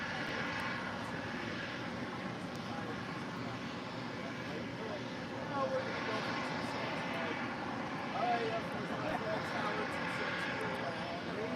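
Norse Boeing 787-9 Dreamliner starting its takeoff roll on runway 25 right at LAX, a distant steady jet roar that swells slightly midway, mixed with voices and background chatter.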